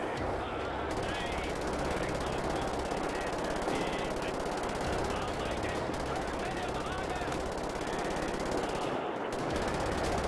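Rapid gunfire from the video game Wolfenstein: The New Order, dense bursts of automatic shots and explosions filling the whole stretch, loud and continuous.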